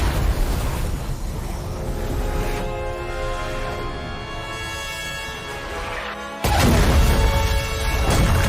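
An explosion in an Unreal Engine demo: a rumbling blast and crashing debris, then a ringing, tonal hum, and a second loud explosive burst hits near the end.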